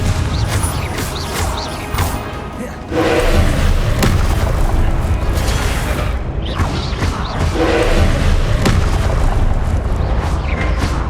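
Confringo spell explosions in the Hogwarts Legacy video game during a boss fight: dense, rumbling booms and crashes that stack up continuously, with sharper blasts near three and eight seconds.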